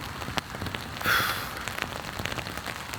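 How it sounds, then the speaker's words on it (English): Steady rain patters on a tarp over a tent at a campsite, a dense close hiss with scattered individual drops ticking through it and one brief brighter swell of spatter. "As you can probably hear, it's raining."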